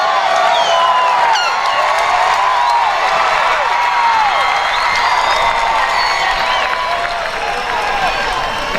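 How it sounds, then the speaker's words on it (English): A graduation commencement audience gives sustained, dense applause with cheering and whoops, loud and filling the space for the whole stretch. "Now let them know how much you appreciate them with a great round of applause."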